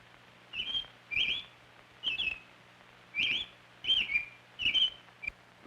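An American robin chirping in a tree while nest building, about eight clear whistled phrases spaced over several seconds, close and distinct against a quiet low hum.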